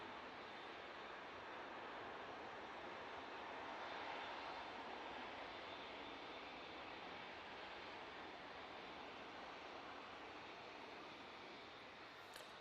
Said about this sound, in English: And we have the Qatar 787-9 Dreamliner.